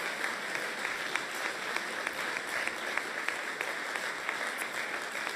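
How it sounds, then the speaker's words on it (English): Steady, dense applause from a studio audience during a talk radio show, an even wash of many hands clapping throughout without a break. "We're all clapping."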